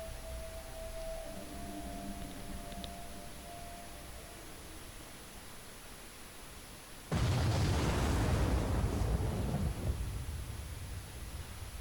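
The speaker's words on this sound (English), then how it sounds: "is this the explosion that kills 8 billion people" A single deep, rumbling explosion in the video game Zero Time Dilemma bursts in suddenly after a quiet lull with a faint tone, then roars loudly for a few seconds before fading into a lingering low rumble.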